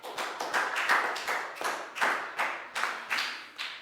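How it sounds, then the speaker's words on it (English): A small classroom group in a Year 4 science lesson claps in a steady rhythmic pattern, about ten clear beats roughly every third of a second, close and fairly soft, with no talking. "Big round of applause, please, guys."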